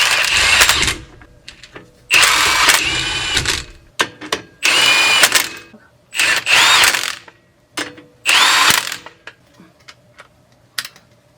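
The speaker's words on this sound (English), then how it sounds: "We're going to tighten these just until they're tight, not over tightened." A power tool tightens the rear brake bolts on a Jeep JK during a pad and rotor install, whirring loudly and closely in about five bursts of a second or so each, broken by clicks and handling noises, with no talking.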